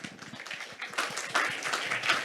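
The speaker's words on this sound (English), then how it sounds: "Please welcome him with a big round of applause." Audience applause at an energy conference, Colombia Day at H₂ MEET 2023: dense, steady clapping from a crowd, swelling slightly toward the end, with no speech over it.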